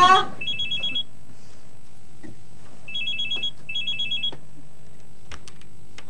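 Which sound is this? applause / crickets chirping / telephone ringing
telephone ringing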